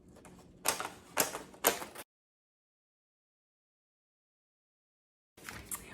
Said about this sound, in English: your child is going to squeeze the hole puncher to cut holes or to make holes in the pieces of paper